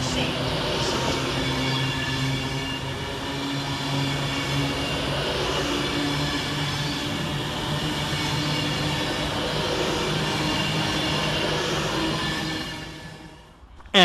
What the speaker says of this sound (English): And here comes our train in the form of 350-405, working the 1544 West Midlands Railway service from Wolverhampton to Walsall.